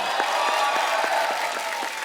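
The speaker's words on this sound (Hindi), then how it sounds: "एक बार जोरदार तालियां हो जाए मिस्टर सैफ अली खान, रानी मुखर्जी और शर्वरी के लिए" A studio audience on a comedy TV talk show applauds, a dense steady wash of clapping with a few distinct rhythmic claps standing out, heard alone for a couple of seconds.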